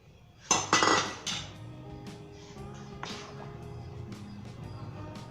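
A spoon clanks against a pot while mint is stirred into mutton nihari, with a few sharp metallic clinks at first followed by softer scraping and a low simmering hiss.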